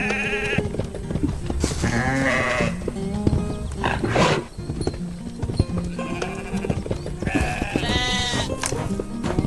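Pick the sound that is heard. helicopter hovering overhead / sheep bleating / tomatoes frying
sheep bleating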